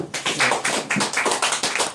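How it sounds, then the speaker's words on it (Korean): Audience clapping in unison at a Korean history group's annual general meeting, steady and close, a rhythmic burst of applause approving a motion, with no talk over it. "네, 박수!"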